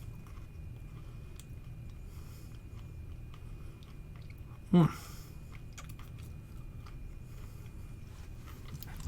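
A single loud crunchy bite into a thick-grain sugar-rolled homemade cookie, one short burst midway through an otherwise quiet room.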